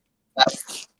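A single sharp human sneeze, close and loud, lasting under half a second with a quick intake then a burst, alone against silence.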